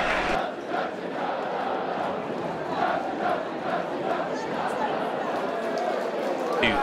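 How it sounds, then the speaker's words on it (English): A football crowd at a Maidstone United versus Hampton & Richmond Borough match applauds after a goal, a sustained wash of clapping and cheering with a commentator talking over it. "He's milking the applause, and well, he deserves to"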